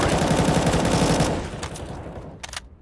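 XM shotgun fire in a Counter-Strike match, a loud dense burst of rapid gunshots that cuts off and trails into a few fainter distant shots.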